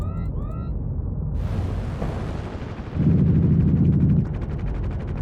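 A missile launches in the space game In The Black, a sudden deep roaring burst that swells for a second or two before settling into a sustained rumble, after a short synthetic beep sequence.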